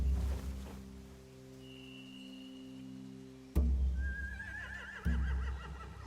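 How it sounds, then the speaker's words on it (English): Horses in The Walking Dead video game whinny in two short bursts partway through, with low ambient game drones and thuds around them and no talking. "They have horses."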